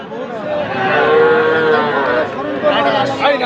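Young heifer calves at a crowded cattle market moo in long, loud, close calls, with people chattering around them.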